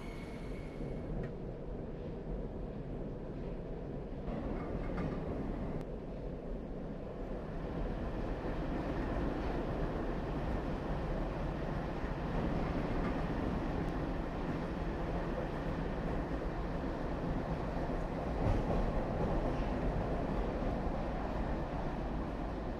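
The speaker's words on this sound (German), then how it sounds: "Ja, dann fahren wir in den Bahnhof ein." A metro train in Metro Simulator 2019 rolls into a station, a steady loud rumble of wheels and motor with a broad rushing noise that swells slightly as it continues, no voices over it.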